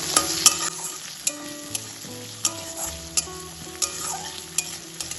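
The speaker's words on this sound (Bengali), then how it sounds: "টমেটো কুচিটাও হালকা নেড়ে নেব তেলের সাথে" Chopped tomato and onion stir-fried in hot oil for a taro dish make a steady close sizzle, broken by sharp regular clinks of a spatula scraping and tapping the pan.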